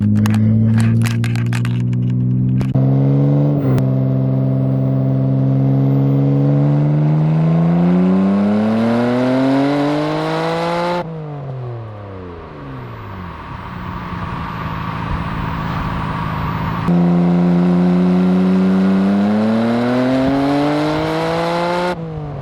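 A Nissan R32 Skyline GT-R with a new exhaust revs repeatedly, engine pitch climbing and falling in long sweeps with a dip to idle midway, loud and close-miked, no talking.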